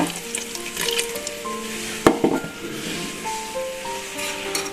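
Loud sizzling and hissing as water is added to mutton masala frying in a hot pan, with stirring scrapes and a sharp clink partway through.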